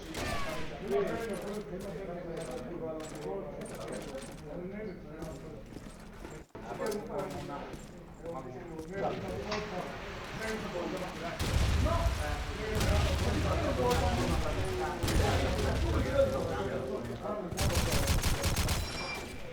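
Gunshots in a competitive first-person shooter match at a LAN tournament, sporadic cracks and bursts of fire mixed with game effects, heard under a caster's steady commentary that grows louder and busier toward the end.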